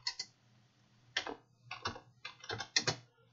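Crisp, close key taps on a computer keyboard in short irregular runs with brief gaps, over a faint low hum.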